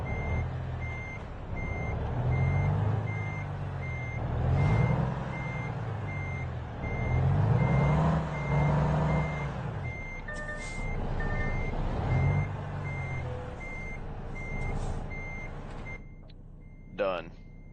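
Truck reversing beeps in the video game American Truck Simulator as the rig backs a trailer, evenly spaced high electronic pulses repeating throughout over a low diesel engine drone, with someone talking over parts of it.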